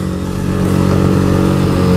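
A Rouser 220cc motorcycle engine running steadily close by, a loud continuous hum with strong low harmonics that swells slightly after the first half second and holds.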